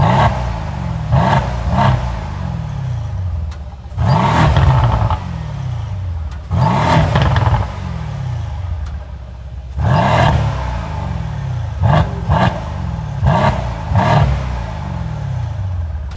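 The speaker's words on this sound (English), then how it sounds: "we're gonna get some revs to have a nice comparison of stock versus the Valvetronic system." A car engine on its stock exhaust blips repeatedly, several short revs rising and falling with a steady idle rumble between them, close by and moderately loud.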